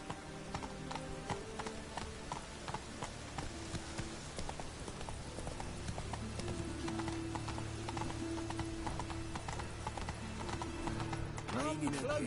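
The horse Roach gallops in The Witcher 3, a rapid, rhythmic clip-clop of hooves over game music and ambient sounds, with a voice speaking at times.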